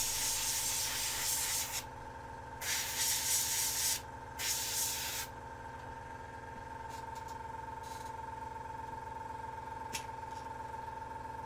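A Meeden 0.5mm airbrush sprays in short hissing bursts of a couple of seconds each with pauses between, close and fairly quiet over a steady low compressor hum, with a few faint clicks afterward.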